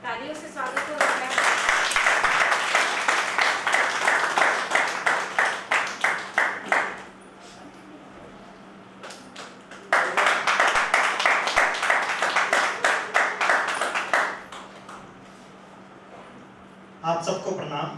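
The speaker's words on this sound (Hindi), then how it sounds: "तालियों से स्वागत हो रहा है।" An audience claps rhythmically to welcome a poet at a Holi-season poetry festival in Palam, Delhi, two bursts of loud, unison beat-like clapping separated by a quieter gap, with a voice speaking over the hall and a steady low hum.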